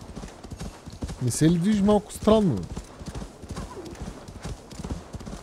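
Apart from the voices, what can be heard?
horse galloping in Assassin's Creed Valhalla video game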